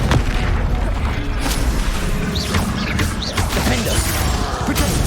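Confringo spell impacts in Hogwarts Legacy hit with heavy booms and crashes amid dense battle noise, with whooshing streaks and repeated blasts over a constant loud roar.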